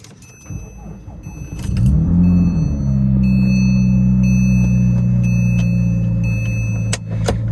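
A Porsche GT3 with a three-pedal manual gearbox cranks over and fires up loudly nearby, its engine settling into a steady, throaty idle with a brief rev.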